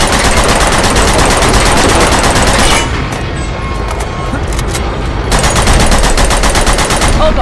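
Rapid automatic gunfire rattles loudly in Uncharted 2 as shots are fired at a ceiling, a dense continuous burst that dips briefly mid-clip before the fusillade resumes at full volume.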